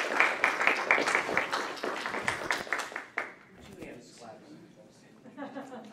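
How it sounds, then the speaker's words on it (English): An audience at an author talk claps enthusiastically for a few seconds, then the applause thins out as a voice begins speaking. "That was a lot of hands clapping."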